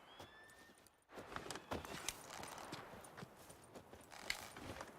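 Roach the horse's hooves clip-clop in The Witcher 3, a steady run of close, moderately loud hoofbeats under faint ambient game sound.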